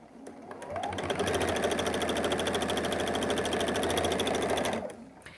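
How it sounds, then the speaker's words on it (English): A sewing machine runs steadily for about four seconds, stitching scrappy fabric pieces for a Christmas tree quilt block, with a fast even mechanical rhythm from start to stop. "And then I'll just start sewing it."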